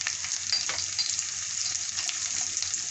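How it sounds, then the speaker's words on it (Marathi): Spices sizzle and fry steadily in oil in a pan over low gas, with a dense continuous crackle and occasional stirring scrapes, close and alone. "आता अर्धा मिनिट कमी गॅसवर परतून घेऊया मसाले"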